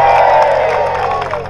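An outdoor crowd at a Commando 2023 event at Hever Castle cheers and applauds, a loud wash of clapping and whoops that slowly fades across the moment.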